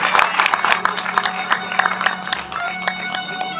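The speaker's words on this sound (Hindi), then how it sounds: "जोरदार तालियां आप लोग बजाएं।" An audience at a Ram Katha religious gathering claps, uneven and moderately loud, with distinct individual claps scattered over a busy room and murmured voices underneath.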